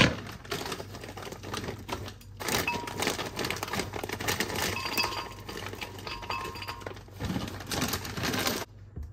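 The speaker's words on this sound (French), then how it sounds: "Je vais ouvrir l'autre paquet." Raspberry packet being opened in a home kitchen: close crinkling and clicking of plastic packaging with brief pauses, steady and fairly loud throughout, no talking.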